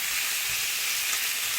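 Minced beef frying with softened onions and garlic in a pan: a brief, even sizzle of close, steady hiss with low sputtering underneath and no pauses.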